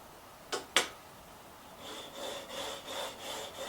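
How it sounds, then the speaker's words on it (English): A few sharp scrapes, then steady rhythmic rubbing strokes of sandpaper worked back and forth on a small guitar saddle, close up with no talking. "Just let the sandpaper do the work."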